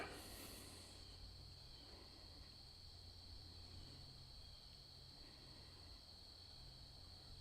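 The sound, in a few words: crickets chirping outdoors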